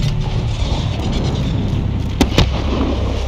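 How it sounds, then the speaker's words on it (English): Illumination flare rounds fire off in a Call of Duty Modern Warfare embassy battle: two sharp, close launch pops in quick succession near the end, over a steady rumbling battlefield background. "Launch a flare. We'll pick them off in the light. Illumination rounds."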